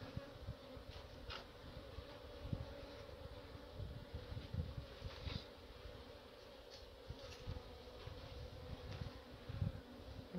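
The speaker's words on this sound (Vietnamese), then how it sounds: "Thùng ong đây là bữa trước là một bầy ong thiên nhiên bên ngoài, nó chủ động nhập trực tiếp vào cái thùng" Bees buzz continuously around a wooden beehive box holding a wild swarm that moved in on its own, a dense steady drone with individual bees flitting close by, fairly faint overall.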